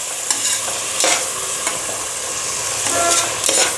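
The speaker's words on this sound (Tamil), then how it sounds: "தக்காளி நல்லா வதங்கணும்." Chopped tomatoes fry in hot oil for a mushroom biryani masala. A spatula stirs them in several scraping strokes, loud and close, over a continuous crackling sizzle.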